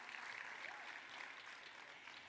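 Audience applause at a women's leadership summit, a steady wash of clapping from a crowd heard at a distance, faint and continuous throughout.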